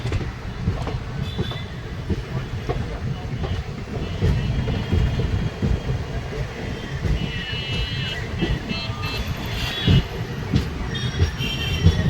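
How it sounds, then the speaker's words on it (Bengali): The Sahid Express pulls out of Rampurhat station in the late afternoon, a loud rumbling passenger train with rattling carriages, clattering wheels on rails and brief metallic squeals, heard close from on board. "গ্রীষ্মের পরন্ত বিকেলে ট্রেন রামপুরহাট শহর ছেড়ে বেরিয়ে যাচ্ছে"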